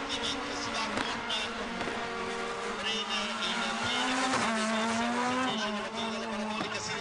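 A Super 2000 race car driven by Luca Rossetti at a Masters Show final roars steadily through the clip, its engine note rising and dropping with gear changes, while a commentator talks over it throughout.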